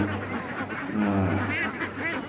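Ducks at a roadside duck farm beside a large wetland quack in a busy overlapping chorus, fairly close and steady, with a low hum underneath throughout.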